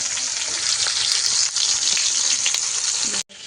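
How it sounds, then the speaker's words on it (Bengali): Eggplant pieces seasoned with salt and turmeric frying in hot oil, a loud, dense, close sizzle that runs almost without a break before cutting off abruptly near the end. "বেগুনটা আগে ভাজবো"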